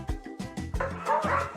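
A Komondor dog barking, a quick series of four close, loud barks followed by a higher, whining yelp.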